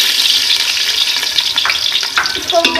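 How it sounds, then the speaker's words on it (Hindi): Onions sizzle in hot oil with a steady bright crackle, close and loud, with a few scraping stirs near the end and no voices. "सबसे पहले हम ऑयल में ऐड करेंगे प्याज"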